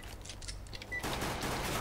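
Faint bursts of gunfire from the video game Counter-Strike: Global Offensive crackle in quick succession, quiet and somewhat distant, with no talk over them.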